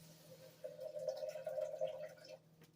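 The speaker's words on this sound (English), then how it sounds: "first, I'm going to fill it up with tap water" Tap water pours into a container in a kitchen, a faint, steady stream with a rising tone that lasts about two seconds before stopping.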